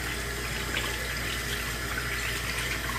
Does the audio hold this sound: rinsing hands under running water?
yes